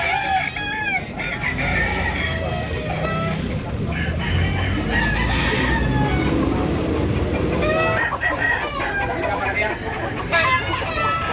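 Roosters at a Sunday cockfighting market in Tabunok, Talisay, Cebu crow repeatedly, some calls close and loud and others farther off, over crowd chatter and people talking.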